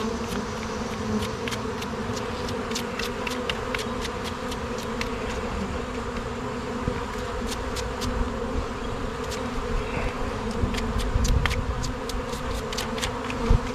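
Dense, steady buzzing of many honeybees being smoked off a frame during a fall Layens hive inspection fills the air close by, with scattered clicks and light rustling throughout.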